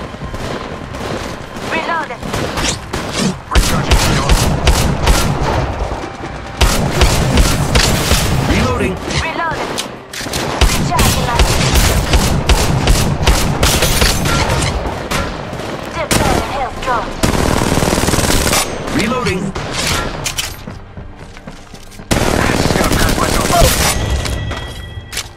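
Apex Legends Mobile gunfire: dense, loud bursts of rapid automatic shots and booms fill the match almost continuously, with short pauses between volleys and in-game voice lines mixed in.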